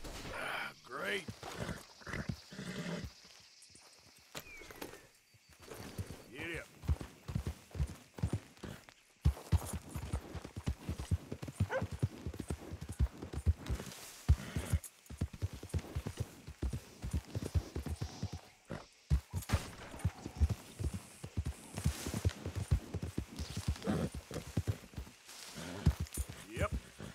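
A horse ridden in Red Dead Redemption 2 clip-clops along at a steady gait, its hoofbeats running under almost constant talk, with a few muffled dog-like sounds mixed in.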